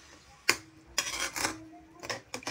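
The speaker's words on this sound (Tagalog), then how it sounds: "Halo-halo lang ng konti." A utensil stirs eggplant and alugbati greens with a little water in a cooking pan, producing a sharp opening clack followed by several intermittent scraping and clinking strokes, close up with no talk.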